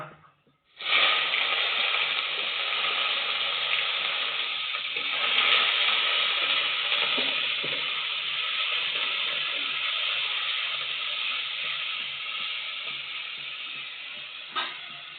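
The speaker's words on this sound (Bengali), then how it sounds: "পেঁয়াজ ভালোভাবে লাল লাল করে ভাজা করা হয়ে গেছে" Oil sizzles loudly and steadily as onion paste fries in a pan, a continuous crackling hiss with a faint clink near the end.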